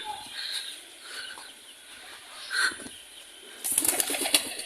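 A flurry of flapping wings as birds take off from a village yard with ducks, chickens and pigeons, bursts of fluttering near the end amid clucking and bird calls.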